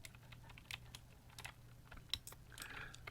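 Slow, sparse keystrokes on a FEKER Mechanist 01 60% keyboard, a handful of separate clicks spaced out as if typing about ten words a minute, quiet and close with no talking.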